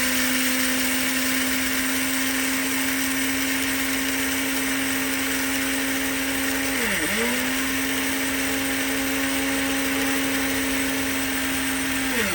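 A mixer grinder with German-made motor runs at a loud, steady whine, its pitch dipping briefly once midway before recovering, with no talk over it.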